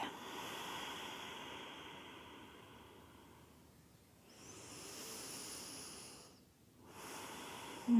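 Slow, deep breathing during a home yoga practice, long soft airy inhales and exhales rising and fading in a steady rhythm, close and quiet with no talking.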